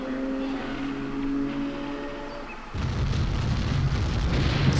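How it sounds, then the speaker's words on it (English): An explosion in the video game The Legend of Zelda: The Wind Waker starts as a low droning tone, then a sudden loud, rumbling blast of noise takes over and sustains to the end. "Incredibly loud explosion sound."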